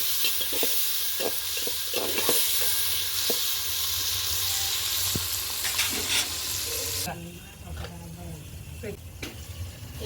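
Onions, green chillies and tomato pieces frying in a pan are stirred, with loud steady sizzling and scraping strokes; the sizzle drops away partway and quieter stirring continues.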